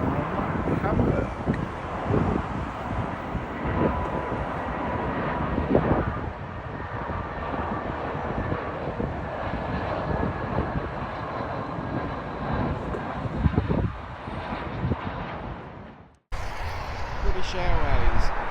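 British Airways Airbus A319 airliner at London Heathrow, a loud, steady broadband jet roar filling the scene for about sixteen seconds, with wind buffeting the microphone, then a brief drop and fresh close rumble.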